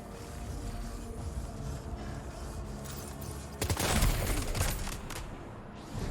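A sustained rattling burst of gunfire from the video game Death Stranding 2, peaking into a loud volley partway through over a constant rumbling game backdrop.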